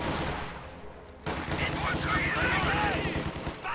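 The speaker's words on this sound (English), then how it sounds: "Machine gun engaging some Grenadiers there on the right side." Machine gun fire crackling in a real-time strategy video game, with grenadiers under fire amid battle noise, steady bursts over a busy backdrop while a commentator talks.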